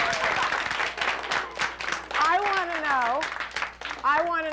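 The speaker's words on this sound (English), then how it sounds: "We should give him a clap." Audience claps for Mr. Gorman's father, a burst of applause mixed with cheering voices and excited, rising vocal exclamations over the clapping.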